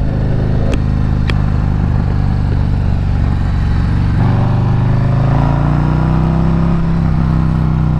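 A 2024 Harley-Davidson Road Glide roars loudly from the rider's position, its engine pulling hard with a deep steady rumble that climbs in pitch as it accelerates, wind noise mixed in.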